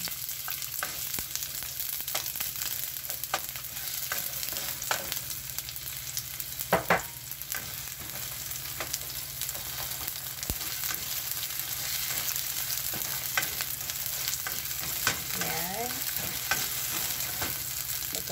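Chopped onion sizzles and fries steadily in a pan for an omelette, with occasional scraping stirs and clinks of a utensil against the metal, close and continuous throughout.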